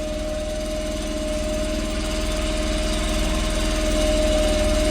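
The engine of a 48V DC generator idles with a steady, close mechanical drone and a fine rhythmic knocking, holding constant with no voices.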